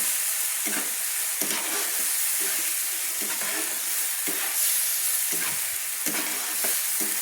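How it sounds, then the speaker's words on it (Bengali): Spice and cashew paste sautés in hot oil for an aloo chingri curry, with a steady loud sizzle broken by regular scraping stirs of a spoon in the pan. "ভালো করে একটু তেলের মধ্যে কষিয়ে নিচ্ছি"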